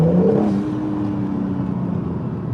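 An Acura NSX sports car engine revs loudly at close range, a strong rising drone that eases into a steady sustained hum, with no talking.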